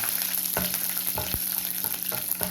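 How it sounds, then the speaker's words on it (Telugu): A curry leaf tempering fries in hot oil with a constant soft sizzle, broken by occasional sharp pops and crackles at close range. "ఈ పోపు కొంచెం దూరగా వేయించాలి"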